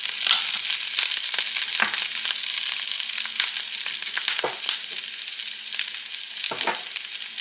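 Brussels sprouts sizzle steadily in hot bacon grease over medium heat, a loud, continuous crackling fry broken by occasional sharper pops and stirring clicks.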